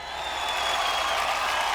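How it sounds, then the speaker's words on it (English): A large live-event crowd cheers and applauds for film stars, a steady, dense wash of clapping and roaring that swells slightly and holds at full strength. "Ladies and gentlemen, a huge cheer."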